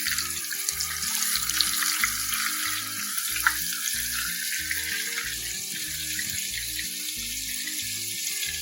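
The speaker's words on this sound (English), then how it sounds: "Oh, look at that fish fry." Catfish fillets frying in a deep fryer: a steady, dense sizzle with bubbling continues throughout, with a low rhythmic musical pulse underneath.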